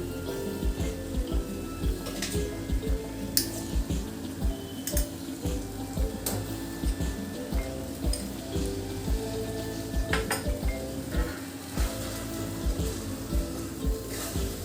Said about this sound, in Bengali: গুড়টা দিয়েও ভালো করে টমেটোর সাথে নাড়াচাড়া করে মিশিয়ে দেবো